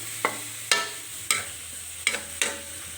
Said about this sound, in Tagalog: Kailangan po sangkot ng sangkot.